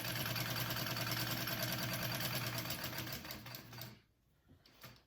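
A sewing machine stitches a backpack, running in a fast, steady mechanical rattle for about four seconds, then stopping abruptly before a brief faint restart.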